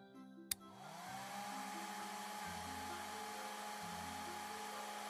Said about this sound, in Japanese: よーし、髪も乾かそうか。 ドライヤー、ドライヤ